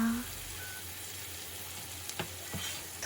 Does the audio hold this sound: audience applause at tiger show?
no